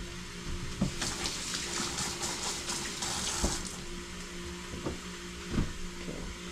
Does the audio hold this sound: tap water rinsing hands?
yes